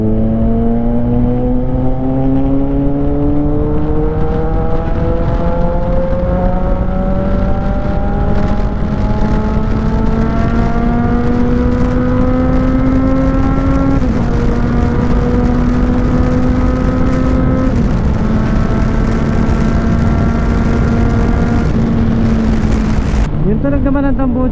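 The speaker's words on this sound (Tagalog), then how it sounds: "Mas gusto ko yung tunog ng tambucho natin ngayon." Kawasaki Z900 motorcycle with an AR muffler exhaust, ridden on a highway. Its engine drone climbs steadily in pitch, drops at gear shifts, then climbs again, loud and close under constant wind roar.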